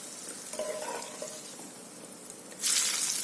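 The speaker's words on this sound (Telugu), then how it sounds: "చూడండి, పోపు వేస్తున్నాం మనం. ఆ ఎండుమిర్చి దాంట్లో మనం కొద్దిగా ఎక్కువ పోపు పెడుతున్నాం." Dried red chillies sizzling in hot oil as a tempering for a tamarind pickle, a soft continuous fry with faint clinks, swelling into a louder hiss near the end.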